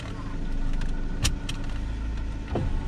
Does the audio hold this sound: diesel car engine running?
yes